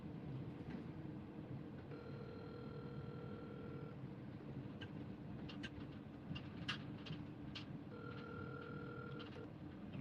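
Telephone ringing unanswered during a call, two ring bursts separated by a pause, heard faintly over steady road and engine noise inside a moving vehicle, with a few clicks.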